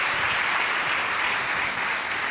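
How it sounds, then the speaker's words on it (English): An audience at a church youth seminar applauds the youth group, a dense, loud, steady wash of clapping from many hands sustained throughout without any voices. "So a round of applause for the department of the youth group."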